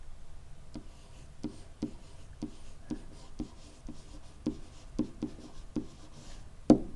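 A green pen or marker scratches across a writing surface in short, evenly spaced strokes, with a sharper tap near the end, close and quiet with no talk.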